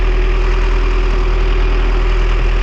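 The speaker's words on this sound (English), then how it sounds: "This is how noisy the engine is when it's uncovered, running right underneath me." A vehicle engine idles uncovered directly below, with the engine board removed, making a loud, constant mechanical drone with a steady hum and no breaks, very close and unmuffled.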